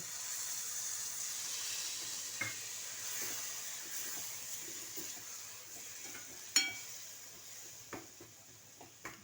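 Milk poured onto roasted pumpkin in a hot pan for a sweet fasting sweet, giving a soft continuous hiss and steamy sizzle with a few light clinks and scrapes, fairly quiet and close, no talking.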